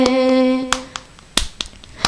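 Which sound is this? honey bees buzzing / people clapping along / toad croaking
people clapping along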